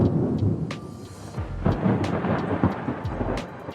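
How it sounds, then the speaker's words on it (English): Rolling thunder rumbles low and heavy through steady rain, several deep booms swelling and fading, with scattered crackles over the downpour. "Though hear that distant thunder."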